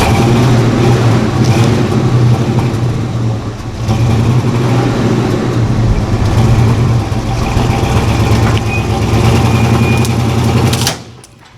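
A Ford Bronco in four-wheel drive revs hard and strains steadily against a tactical riggers belt in a pull test, its engine roar loud and sustained for about eleven seconds with brief dips before abruptly cutting off.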